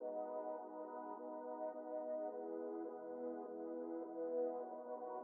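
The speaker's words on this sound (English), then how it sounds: "it's also where I got these pad loops" A mellow synth pad loop from Logic Pro X Apple Loops, used in a 2000s-style R&B beat, sustains a smooth chord with a soft, steady drone, quiet and alone with no percussion.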